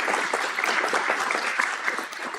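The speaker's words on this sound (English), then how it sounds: "One more round of applause." Steady audience applause at a school district board meeting, dense and continuous clapping throughout with no talk.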